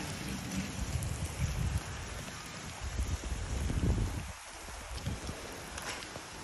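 Rain falls outdoors in a steady broadband hiss with splashy, uneven patter and low rumbling bursts, fairly close, without speech.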